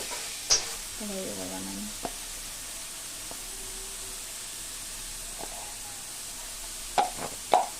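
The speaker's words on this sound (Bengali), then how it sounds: "এটাকে একটু কষতে হবে।" Soybeans sizzle softly in a pan with a few knocks and scrapes from a spatula, spaced apart, and a brief murmur near the start.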